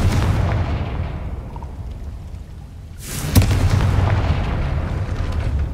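A Confringo blasting spell explodes in the Hogwarts Legacy video game, a sudden loud boom with a sharp crack around the midpoint, followed by a rumbling roar that holds steady to the end over constant low background noise.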